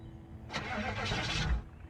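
A car engine cranks and catches in the Project Zomboid video game, a short, fairly loud start that settles into a running rumble, with no talk over it.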